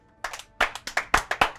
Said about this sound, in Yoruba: Ẹ jọ̀ọ́ bá mi pàtẹ́wọ́ fún wọn.